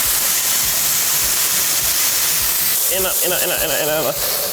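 Steam wand on a Decent Espresso DE1XXL espresso machine hisses loudly and steadily, then the pitch wavers and gurgles near the end as the steam works through liquid.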